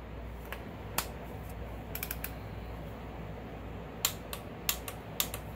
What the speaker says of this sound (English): I'm gonna torque down the spark plug to 14 foot-pounds of torque.